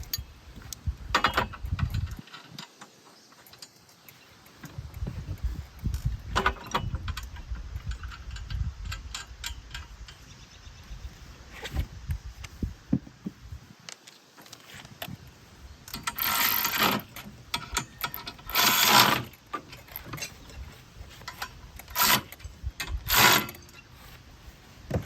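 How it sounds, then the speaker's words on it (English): 14mm bolts on a Flyway 90 auto clay thrower being tightened with a socket wrench, giving bursts of rapid ratchet clicking with pauses between strokes, close by in a quiet room. "So when it comes time to tighten those down, get a 14mm socket or a wrench to get that done."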